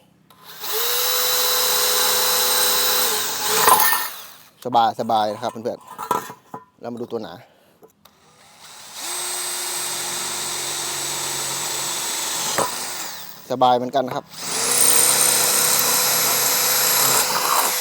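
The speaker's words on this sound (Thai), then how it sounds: "ผมจะทดลองเจาะเหล็กนะครับตัวนี้เป็นเหล็กกล่องนะครับ" A cordless Dewalt DCD805N brushless 20V drill bores into a 2 mm steel box section in three long, steady whining runs that stop and restart, with loud grinding and metallic rattle between them. Someone talks briefly in the pauses.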